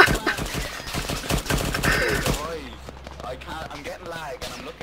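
Rapid automatic gunfire during an ambush in the Arma 3 video game, a burst of sharp repeated shots over about two seconds with voices talking over the fighting.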